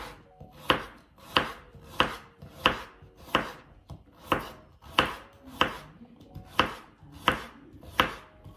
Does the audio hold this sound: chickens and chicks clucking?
no